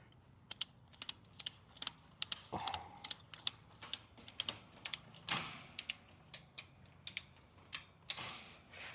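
A ratcheting tension strap being tightened while securing gear for an RV camping trip, a series of sharp close clicks in quick irregular bursts with short pauses, fairly faint, with no voices.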